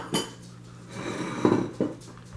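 A spoon scrapes and clinks against a bowl while stirring a chickpea and black bean veggie burger mixture, a few sharp knocks between softer scraping strokes, close by and alone.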